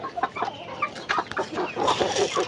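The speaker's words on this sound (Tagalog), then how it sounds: "dito ako sa kulungan kasi nandito rin yung aking mga inahin" Several hens cluck and squawk close by in a coop in quick, irregular bursts, with soft rustling between calls.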